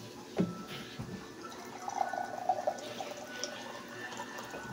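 Water is poured or fetched during home cooking, with faint splashing and dripping in a quiet room, a few brief clinks mixed in.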